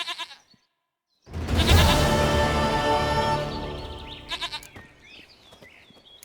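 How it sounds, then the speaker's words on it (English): Goat in the Witcher 3 video game giving one long, loud, wavering bleat that fades out, followed by a few shorter quieter calls and faint birdsong. "Goat of mine, dearest,"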